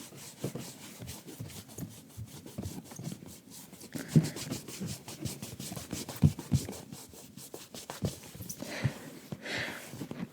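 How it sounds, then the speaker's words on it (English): A rubber eraser rubbing marks off a board, close quiet scrubbing strokes in a quick back-and-forth rhythm with a few louder knocks, no voice. "This is my rubber for the video, so let's just rub this off."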